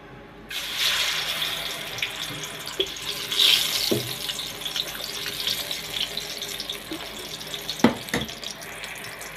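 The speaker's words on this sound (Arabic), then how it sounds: "حطيت بقى حله فيها شويه ميه" Water running from a tap into a cooking pot on a home stovetop as pasta is prepared, a steady continuous splash with a few brief knocks and clatters.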